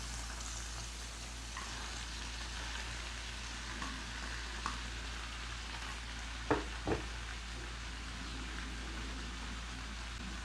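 Chopped bottle gourd (upo) sizzles in a pan with tuna, a steady soft frying hiss under a low hum, with a couple of brief clinks of a utensil stirring partway through.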